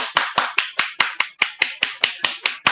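Rhythmic hand clapping during a tabletop Dungeons & Dragons game, about a dozen sharp claps in a steady, slightly quick beat, close and crisp with no talk over it.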